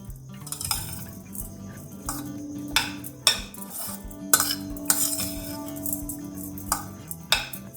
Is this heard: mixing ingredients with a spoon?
yes